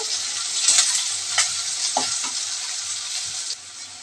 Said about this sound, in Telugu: కొంచెం జీలకర్ర వేస్తున్నానండి అలాగే కొంచెం కరివేపాకు కూడా వేస్తున్నానండి